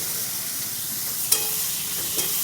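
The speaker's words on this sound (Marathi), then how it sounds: "मस्त आपला कांदा मस्त पाव फ्राय करू" Chopped onion and tomato fry in a hot tempering for bamboo-shoot bhaji, a constant close sizzle and hiss, with a couple of brief clicks from a spoon or pan and no voices.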